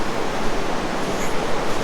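Waves wash onto a remote, untouched beach with rocky bedrock, a steady broadband roar of surf that stays fairly loud and even throughout, with no voices over it.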